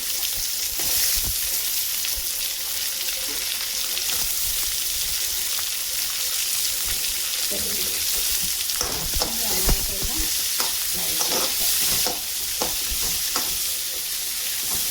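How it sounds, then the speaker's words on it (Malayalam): Shallots and coconut sautéing in a pan for a homestyle mushroom curry, a steady close sizzle with intermittent stirring scrapes and clicks throughout, no voices. "ഇതിനകത്തേക്ക് ഞാനിടാൻ പോകുന്നത് ചെറിയ ഉള്ളിയാണ് കേട്ടോ"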